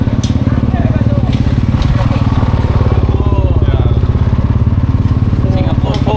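Rally raid motorcycles idle and rumble steadily in a crowded paddock, a dense continuous engine drone with crackling revs close by, while people talk over it throughout.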